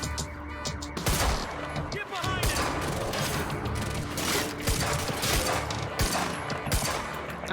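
Repeated gunfire from a notoriously inaccurate gun in the Quantum Break video game, with steady sharp shots and bursts packed across the clip, loud and close over game action, with a voice talking at times.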